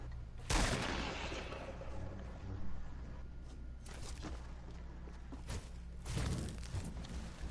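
Fortnite gunfire comes as faint, scattered bursts of shots and thuds over a low background, with no voices.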